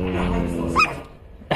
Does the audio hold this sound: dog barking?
yes